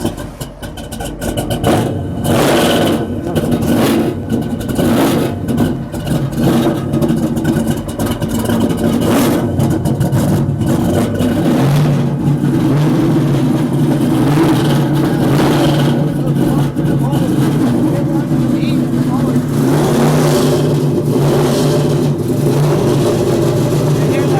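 A custom Ring Brothers muscle car engine starts and settles into a loud, steady rumble with repeated revs. People talk over the engine.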